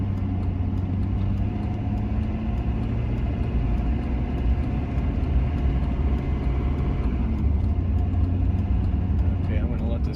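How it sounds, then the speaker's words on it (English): On a hill, a car comes up behind a hotshot pickup truck and drives past it. The steady engine rumble and road drone stay loud and constant throughout, with no clear rise or fade to mark the pass. "Okay, I'm gonna let this car get around me here."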